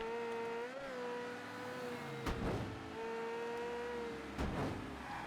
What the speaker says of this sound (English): there's no reason to worry about this noise of a car turning over